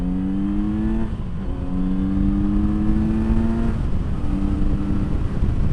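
A 2020 Kawasaki Z900 RS motorcycle engine on the move, a loud steady drone rising in pitch through the gears with brief dips at shifts, under heavy wind rush.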